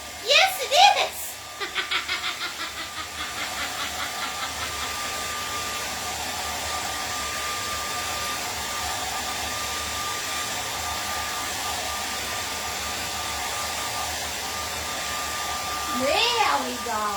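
A hair dryer blows on a fresh painting of an aurora borealis winter sky, a loud steady whir running throughout, with short bursts of chuckling and talk at the start and near the end.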